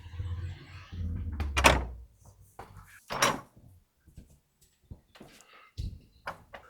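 An old door in a historic Cranleigh building is opened onto a courtyard: a few close wooden knocks, creaks and rattles of the latch and handle, spread irregularly over several seconds with quiet gaps between.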